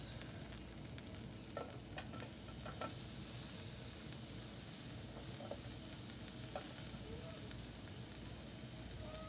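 Onions frying in butter in a pan, a steady close sizzle with occasional light scraping and stirring knocks.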